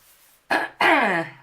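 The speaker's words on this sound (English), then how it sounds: "stupid cough" Two sharp, close coughs in quick succession, the second longer and raspier, after a moment of quiet.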